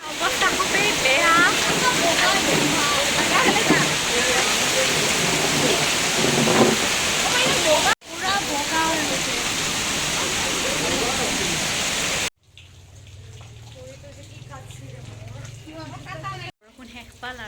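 Heavy rain pouring down outdoors during a storm, a loud dense roar of drops that continues through several abrupt cuts, with people talking over it in places.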